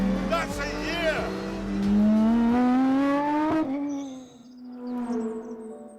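An Aston Martin Vulcan screams along a track, its engine note climbing steadily through the revs before dropping away. It then rises again as the car powers on, loud and close at first, then more distant.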